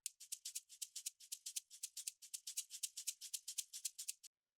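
Shaker loop from a deep house track, a steady run of bright, crisp rhythmic hits with even sixteenth-note pulses, played alone and upfront with no other instruments.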